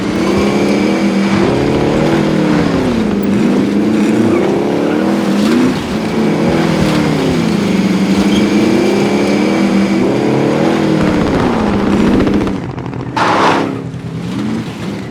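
A car engine drives steadily in Call of Duty Warzone, a loud continuous drone that rises and falls as the vehicle speeds up and shifts, then briefly drops near the end before resuming.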